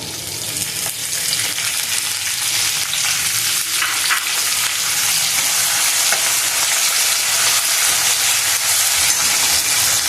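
Steady, loud sizzling of spices and a little coriander frying in hot oil for Maharashtrian kadhi, a continuous crackling hiss throughout with no voices.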